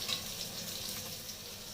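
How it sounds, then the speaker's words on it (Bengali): Eggplant pieces fry in hot oil with black cumin seeds, added to the pan after fish was fried in it; a steady, close sizzle crackles on its own without pause. "আমি কিন্তু এখানে কালো জিরে দিয়ে বেগুনটাকে ভাজছি"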